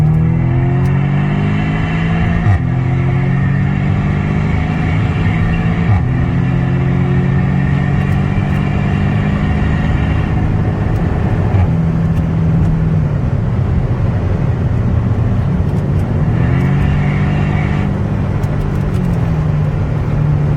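Audi S3 with a 300 hp engine revving hard through repeated acceleration runs, loud and close, with rising engine tones that drop back at each gear change and a steady low rumble throughout, no talk.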